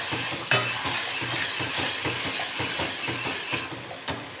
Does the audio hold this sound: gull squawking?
no